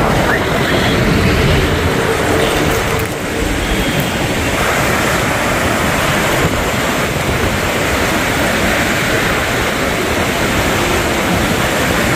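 Loud, continuous roar of crashing water waves, a dense rushing wash that stays steady throughout with no talking.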